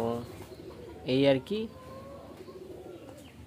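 Pigeons coo softly in a loft, with one short louder coo in the middle, while a person talks briefly over them.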